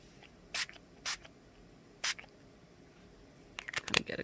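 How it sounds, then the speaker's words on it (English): Short bursts of spray misting distress ink onto the back of paper, three separate puffs spaced apart, then a quicker cluster of sprays at the end, close and fairly quiet. "I'm just going to spray the back so that it doesn't roll as much."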